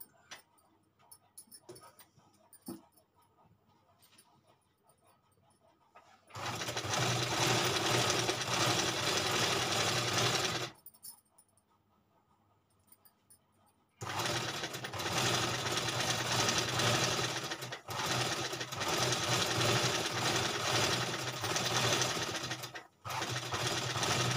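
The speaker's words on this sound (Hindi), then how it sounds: "अब इसे ऐसे रख के इसके ऊपर हमें बैठी सिलाई मारनी है।" An electric sewing machine runs a seam stitch along a folded fabric edge in two loud, steady whirring bursts of several seconds each, separated by quiet pauses with faint handling noises.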